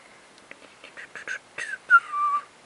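Someone whistles a short, wavering tune close up, after a few soft breathy pops and clicks.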